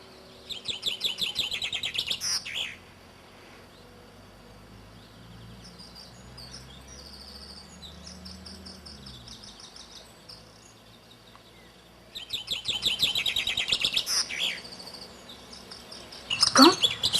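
A common chaffinch sings its bright descending trill in two clear bursts separated by a quieter stretch of soft ambient sound, with a final sharp chirp at the end.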